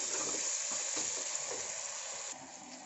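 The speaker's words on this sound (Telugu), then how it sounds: "ఇప్పుడు ఇందులో అల్లం వెల్లుల్లి పేస్ట్ వేసుకున్నాం. ఇలా వేసుకుని ఒకసారి ఇలా కలుపుకోవాలి." Onions and ginger garlic paste frying in a pan for tomato rice, a soft steady sizzle with faint scraping as the mix is stirred, easing slightly near the end.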